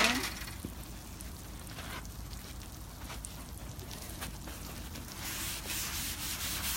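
A seasoned steel grill surface is wiped down after cooking steak, ham and scallops, giving a continuous rough rubbing and scrubbing noise with uneven strokes, fairly close and moderately loud, with no talk over it.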